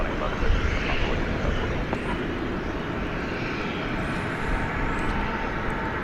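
Aircraft moving around DFW Airport at night, a broad continuous jet roar at moderate distance, steady with slight swells and no distinct breaks.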